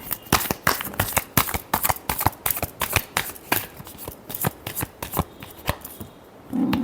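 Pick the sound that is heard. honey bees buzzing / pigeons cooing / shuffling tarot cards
shuffling tarot cards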